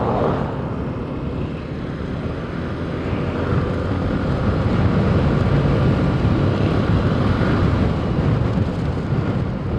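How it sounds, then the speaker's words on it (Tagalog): Strong headwind buffets the microphone on a Yamaha Mio Gravis scooter ride, a loud, continuous low roar of wind rushing past that swells slightly midway, with no talk. "Malakas ang hangin, no? Headwind."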